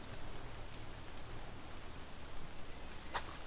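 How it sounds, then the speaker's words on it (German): Steady rainfall in the video game Sneaky Sasquatch, an even hiss of rain on surfaces that fills the whole stretch, with a brief faint chime near the end. "Solange es regnet."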